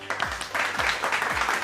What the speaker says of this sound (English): If yes, then clap your hands.